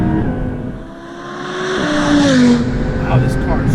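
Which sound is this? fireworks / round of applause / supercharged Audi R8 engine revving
supercharged Audi R8 engine revving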